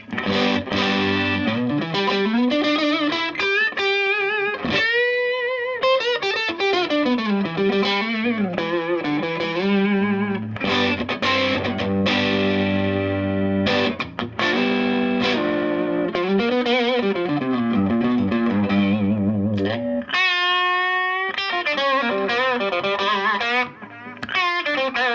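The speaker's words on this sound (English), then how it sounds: "Okay, there we have the crunchy sounds." Distorted electric guitar with a gritty crunch tone through a Boss Nextone Stage amp strums chords and plays lead lines, loud and continuous throughout.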